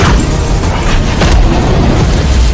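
A huge explosion in an animated fantasy battle series roars loud and continuous, a dense rumbling boom filling the whole moment without voices.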